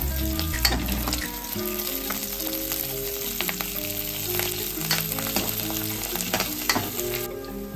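Curry leaves hit hot oil in a pan for a ridge gourd curry, giving a steady, close sizzle and crackle with occasional stirring scrapes. There is no talking.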